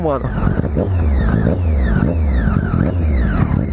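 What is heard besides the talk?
Triumph Daytona 675 R motorcycle engine rumble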